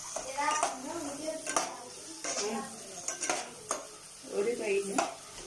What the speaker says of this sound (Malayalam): ഇപ്പോൾ മസാലപ്പൊടികളൊക്കെ നന്നായി മിക്സ് ചെയ്ത് കൊടുക്കുക.